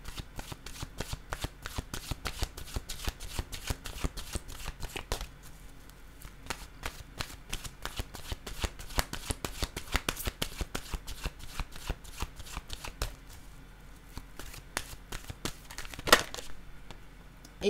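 An oracle card deck being shuffled up close, with rapid rhythmic riffling and flapping of cards continuing steadily and pausing briefly midway.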